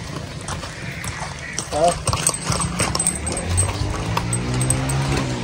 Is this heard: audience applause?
no